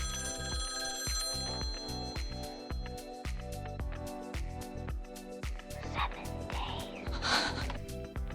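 A telephone rings repeatedly in a horror film scene, bright metallic bell bursts recurring in a steady rhythm, layered over tense music and a few breathy, gasping sounds.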